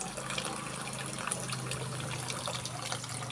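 Tap water runs in a steady, faint, continuous flow at a countryside home, with no talk.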